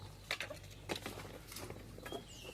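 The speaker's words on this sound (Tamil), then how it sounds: "மழை ஆரம்பிச்சிருச்சு" Rain beginning to fall outdoors in a rural spot where goats are fed, with scattered light drops tapping irregularly and faintly over a low background hum.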